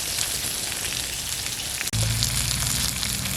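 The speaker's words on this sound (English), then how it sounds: "Throw a little spinach in there, give that a shot. Good butter, whisk it around." Spinach wilting in butter in a pan over a campfire setup, a steady close sizzle and crackle throughout, briefly interrupted before resuming slightly louder, with no talking.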